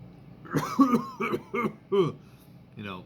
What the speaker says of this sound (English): thing like that where it's a constant cough